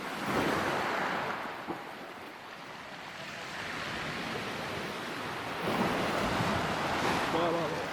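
Sea waves roll onto the shore of a secluded cove, heard as loud, broad surging washes that swell and recede, mixed with wind buffeting the microphone.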